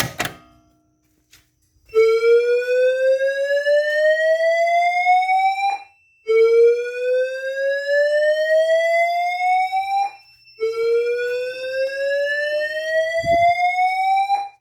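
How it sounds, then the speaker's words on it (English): A pulled fire alarm station sets off building alarms: a sharp mechanical clunk, then three long rising electronic sweeps separated by brief pauses, loud and close. "Speaking of alarm, I think it's time for another one. Push in, then pull down."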